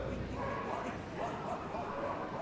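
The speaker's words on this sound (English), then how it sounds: "And a nice quiet bark." A dog at an agility event gives a quiet bark, faint and brief, mixed in with people talking nearby.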